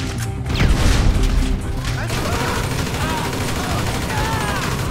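Grenade blast in Grand Theft Auto 5 gameplay, a loud booming crash with gunfire bursts in the first two seconds, then a lingering rumble of debris and distant shots.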